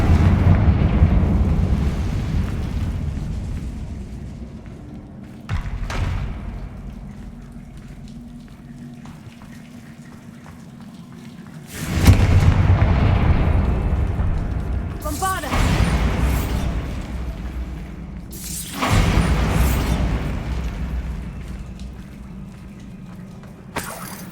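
A Confringo spell explosion in Hogwarts Legacy, a sequence of loud booming blasts each fading into a rumbling roar, separated by quieter stretches. Someone speaks around the blasts.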